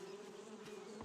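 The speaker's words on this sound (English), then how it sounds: "Honey, oh shit, and bees." Bees buzzing in the video game 7 Days to Die, a steady insect drone, faint, for a brief moment with no talk.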